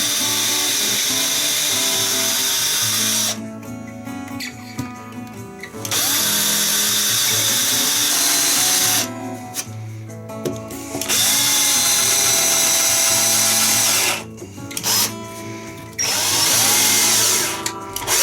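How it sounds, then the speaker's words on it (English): Power drills driving a pilot drill, countersink bit and screwdriver head into wood while building a guitar former: loud sustained whining motor runs broken by short pauses, close and with no voices. "Three bits are required: a pilot drill, a countersink bit and a screwdriver head."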